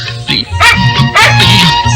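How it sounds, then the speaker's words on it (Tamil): A dog barks loudly and close in a home, a run of sharp yips and bow-wows with some whimpering in between, mostly continuous over two seconds. "நாய் குறைச்சதுக்கு இதான் அர்த்தம்"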